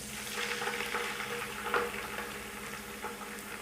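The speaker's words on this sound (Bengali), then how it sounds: "এখন একটু ভালো করে নেড়ে নেব। দিয়ে দেব 2টা পরিমাণ পেঁয়াজ পেস্ট" Onion paste fries in a pan while being stirred, giving a steady, moderate sizzle with soft scraping throughout.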